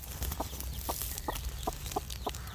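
A chicken clucks in a steady series of short, evenly spaced calls, close by, over a low background hum.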